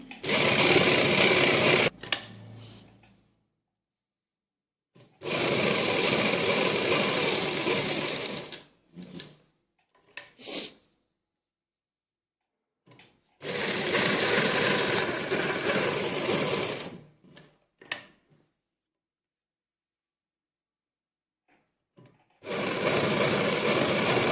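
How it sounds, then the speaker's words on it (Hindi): Sewing machine stitching a half collar neck close beside the buckram, running in four loud sustained bursts separated by silent pauses, with a few short mechanical clicks between runs. "इसके बाद अब हम अपनी पक्की सिलाई लगाएंगे"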